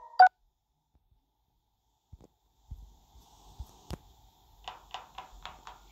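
Short electronic notification chimes, one brief tone near the start and a cluster of quick beeps later, close and clear against near silence with some faint handling noises.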